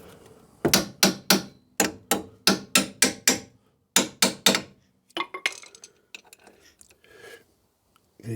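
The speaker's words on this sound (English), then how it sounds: "It actually is amazing how many more turns you're getting out of that after you've hit it with a hammer" A hammer strikes metal on a Rover 75 wheel in a steady run of loud, ringing blows, close by, in two bursts followed by quieter clinks and shuffling without talk.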